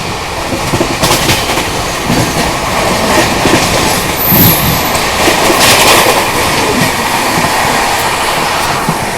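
Duronto Express train running at speed on the rail line alongside a goods train, with steady loud rumble and wheel clatter on the tracks throughout, close and continuous, no talking.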